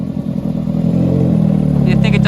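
A tuned Toyota Corolla engine with a straight map revs up with a rising roar, ending in a few sharp, rapid popping bursts from the exhaust.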